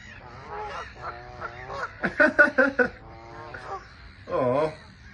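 Geese honk in a quick series of loud calls near a meadow at a nature reserve, with a few more honks afterwards and quieter murmurs between them.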